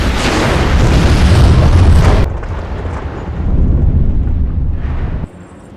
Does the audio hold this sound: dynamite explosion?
yes